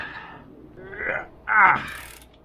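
A ratchet wrench tightens a nut on a Jeep during an evap leak repair, giving a couple of close, creaky mechanical clicking strokes separated by pauses.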